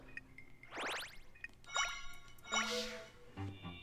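Watery blob creature summoned in The Legend of Zelda: Echoes of Wisdom, heard as a series of bright, bubbly, pinging chimes and droplet blips in quick bursts, clear and fairly soft, with no talk.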